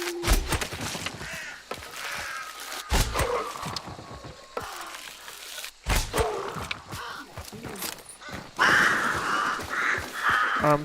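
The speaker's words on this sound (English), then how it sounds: "so stealthy, I set off crows." Crows caw in a video game, several harsh calls scattered among thumps and clatter of in-game mechanisms, loud and close, with no voice over the sounds.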